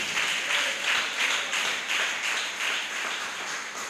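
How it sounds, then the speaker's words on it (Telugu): A church congregation claps together during a Telugu sermon, a steady wash of many hands swelling in loose rhythmic waves, moderately loud and continuous with no talking over it. "చప్పట్లు కొట్టి దేవుని నామానికి కనపరుద్దాం."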